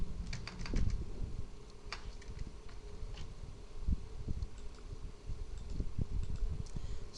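Irregular keystrokes on a computer keyboard while text is entered in an Excel sheet, close and fairly steady over a low room hum, with no speech.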